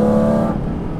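A Porsche Cayman GT4 RS engine revs hard up to a loud, high, sharp note for about half a second, then drops away into a lower, burbling rumble, close by with no talk.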